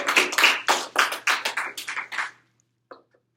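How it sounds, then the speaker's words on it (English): A small audience claps together in a burst of rapid, dense applause that tapers off over about two seconds, followed by a brief pause and one final short clap. "let's give them a clap"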